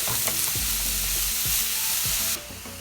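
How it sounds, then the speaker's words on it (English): Chopped vegetables and onions fry in a pan with a little sesame oil, giving a steady, loud sizzle broken by several low scraping stirs before the sound drops away near the end. "all these I'm gonna put in the pan and fry them"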